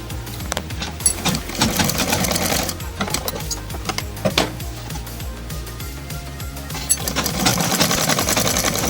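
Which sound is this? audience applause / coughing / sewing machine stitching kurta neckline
sewing machine stitching kurta neckline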